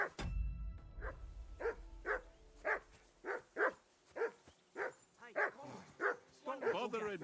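A video game dog barks in a steady series of short, evenly spaced yaps with a few whiny whimpers at the end, fairly close and clear over a quiet background.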